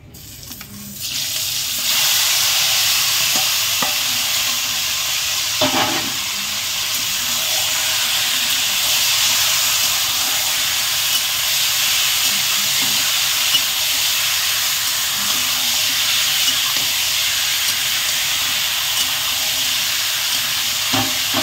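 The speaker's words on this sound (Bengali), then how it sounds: "এই মাংসটা এবারে কড়াইতে আমি দিয়ে দেবো।" Marinated chicken pieces for a red chicken jhol sizzle and hiss steadily in a hot wok, a loud broad frying roar sustained throughout with occasional faint clinks and no talking.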